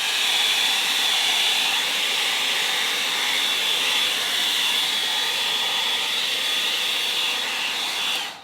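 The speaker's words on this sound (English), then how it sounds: "to create these silicones, we will use blow dryer" A weak hair dryer blows steadily over acrylic pour paint, a loud constant whooshing whine with a thin high tone, running without pause before cutting off at the end.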